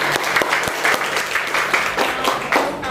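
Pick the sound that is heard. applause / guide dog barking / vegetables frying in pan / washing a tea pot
applause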